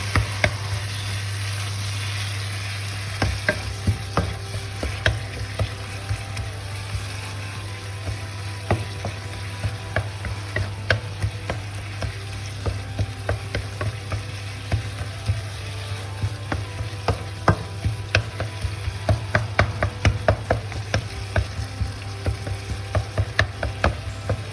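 Beef and fresh tomatoes stir-fry in a hot pan with a constant sizzle, punctuated throughout by rapid clicks and scrapes of a utensil stirring.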